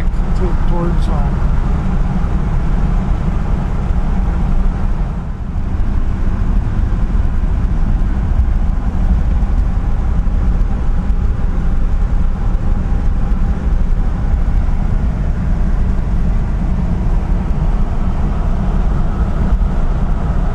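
A classic 1959 Bel Air or 1960 Catalina barn find cruising at night, with a loud, steady engine and road rumble from inside the car and a brief dip partway through.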